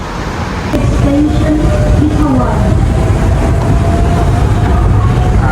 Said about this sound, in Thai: บรรยากาศภายในรถเด้อครับ